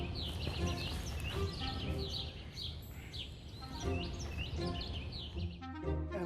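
Bright, clear whistled song of an olive-sided flycatcher repeats outdoors in Central Park, New York, phrases rising and falling over a soft background of other chirps.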